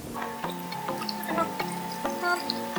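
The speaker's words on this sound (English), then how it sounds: "we're gonna top it off with some strawberry kombucha." Strawberry kombucha poured into a rum cocktail, a light, bubbly trickle with small drips and fizzing splashes, close and fairly quiet.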